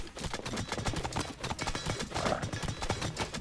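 Rapid galloping hooves of cavalry horses in Age of Mythology: Retold clatter continuously and fairly close in a busy real-time strategy battle, with faint game background sounds.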